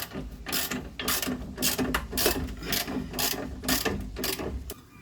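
A breaker bar and 24mm deep socket work a nut on the rear subframe of a Mk3 Ford Mondeo ST220, giving a run of close, loud ratchet clicks in repeated bursts, with no talking.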